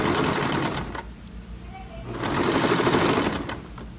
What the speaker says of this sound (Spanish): Entonces ahí coso a lo largo de la caída de hombro a 1 centímetro.